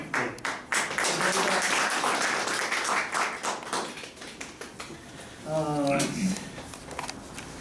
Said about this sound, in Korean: 우리 박수를 한번